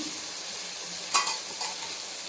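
Masala fries for chicken dum biryani made with foxtail millet: a loud, continuous close sizzle with a brief stirring scrape partway through.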